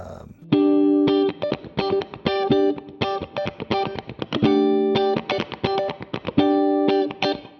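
A Donner DST 152 electric guitar plays clean tone, with crisp plucked chords and single notes struck in a quick, rhythmic pattern, each attack ringing briefly before the next, close and clear.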